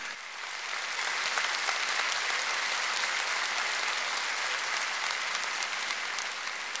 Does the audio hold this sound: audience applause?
yes